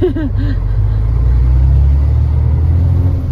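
Heavy rumble of a 4x4 truck under throttle as its wheels spin and slip on a plateau road, loud and close with a brief engine rev at the start.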